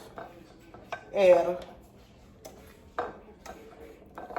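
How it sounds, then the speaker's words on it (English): A pecan topping is mixed in a bowl, with sparse utensil clinks and scrapes against the dish, several separate taps and one longer stir, close and moderately loud. "You mix your pecan. This is gonna be our topping."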